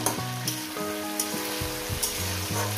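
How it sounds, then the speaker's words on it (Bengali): Yardlong beans sizzle and fry steadily in a pan over medium gas, a continuous crackling hiss with occasional stirring scrapes and no talking. "প্রথমে বরবটিটাকে 3-4 মিনিট ধরে আমি 4-5 মিনিট ধরে আমি এটাকে ভেজে নেব।"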